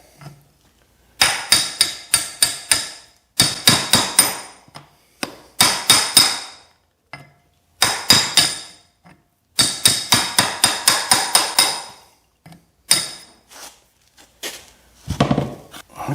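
Hammer blows on a steel punch set against the lock nut of a steering gearbox, sharp metallic strikes in fast bursts of several hits with short pauses between, loud and close, followed by a heavier thud near the end.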